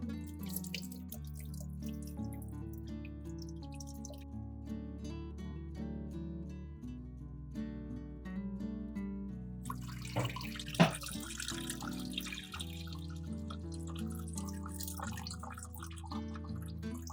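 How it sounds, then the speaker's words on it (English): Water poured from a preserving jar of tomatoes into a pot: a sustained close trickle and splash with dripping that runs through the clip, accompanied by background music. "pour the water from the jar into a pot"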